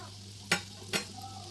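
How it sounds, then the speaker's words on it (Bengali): Veg patties frying slowly in oil, a soft quiet sizzle broken by two brief sharp spatula scrapes. "একটু এটা মানে সময় লাগবে, আস্তে আস্তে ভাজতে হবে।"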